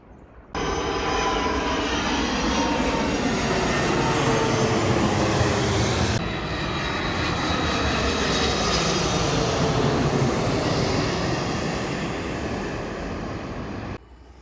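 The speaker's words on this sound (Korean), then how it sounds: "비행기 항공 소음이 어마하지요." A loud, steady jet roar fills the air for over ten seconds, a broad rushing rumble from a low-flying airplane passing overhead near Incheon International Airport.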